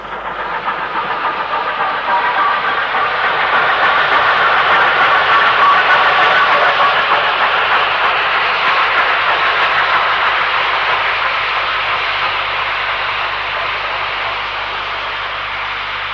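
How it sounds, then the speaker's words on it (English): A Horwich-built 8F steam locomotive, 48340, runs light engine, a loud sustained rumble and hiss swelling and holding for the full stretch, with no voices. "8F 48340 was Horwich built and is running light engine"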